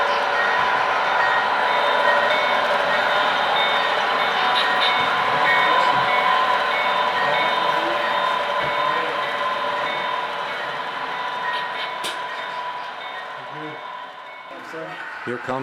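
An HO scale model train runs on a Rock Island layout, making a steady, fairly loud mechanical hum and rumble with faint clicking. The sound stays even and eases slightly toward the end, and voices may be present.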